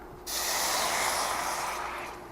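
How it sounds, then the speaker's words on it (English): Vegetable broth goes into a hot pan and a steady, loud sizzling hiss starts at once. It holds at full strength for about two seconds and then eases off a little. "So we're gonna use vegetable broth. This will keep it from sticking. So this is just a hot pan."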